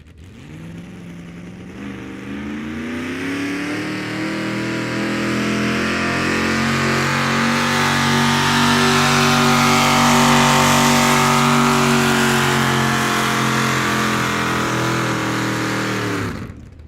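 A pulling tractor named Oh Dear, built on a John Deere with a 454 Chevrolet engine, revs loud and close at a tractor pull, its roar holding strong and steady for about fifteen seconds before cutting off abruptly.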